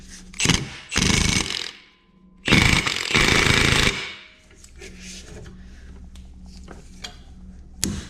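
A castle nut is snugged down by hand on the front CV axle of a Honda Pioneer 700 side-by-side, heard as two loud close bursts of metallic ratcheting followed by quieter scraping and clinks.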